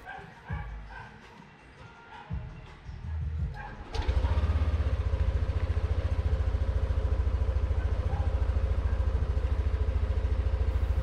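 A Yamaha NMAX scooter with a suspected side stand sensor fault starts abruptly after a few seconds of quiet shuffling, then settles into a loud, steady, rapidly pulsing idle that runs to the end.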